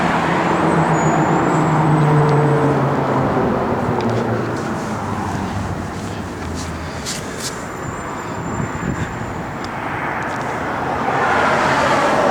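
A 1970 Plymouth Road Runner engine rumbles steadily through a Magnaflow X-pipe dual exhaust, a deep continuous drone with road noise that swells slightly toward the end.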